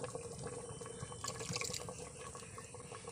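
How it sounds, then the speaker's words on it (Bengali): Tamarind pulp is poured into a pot of beef and mutton trotter nihari, giving a soft, steady liquid trickle with faint drips, quiet and close. "তার থেকে পাল্প বার করে নিয়েছি দেখুন এটা আমি ঢেলে দেবো"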